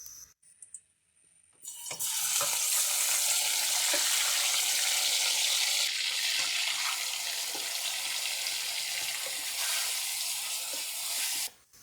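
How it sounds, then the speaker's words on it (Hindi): Marinated chicken sizzles loudly and steadily in hot ghee or oil in a karahi, a dense continuous frying hiss after a brief quiet start, with no talking. "अब हमने जो चिकन मैरिनेट करके रखा था वो इसके अंदर फ्राई करेंगे 4 से 5 मिनट।"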